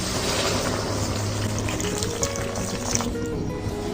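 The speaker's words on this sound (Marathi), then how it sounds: "आता गरम पाणी टाकणार आहे।" Hot water is poured steadily into a pot of wakti fish curry on a chulha, making a continuous close splashing, gushing flow that eases off toward the end.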